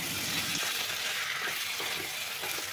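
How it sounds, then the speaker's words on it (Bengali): Potatoes fry and are stirred with spice paste in a pan for a light Bengali fish curry, a dense, loud close sizzle with soft scraping throughout. "আলুটাকে ভালোভাবে মশলার সঙ্গে কষিয়ে নিচ্ছি।"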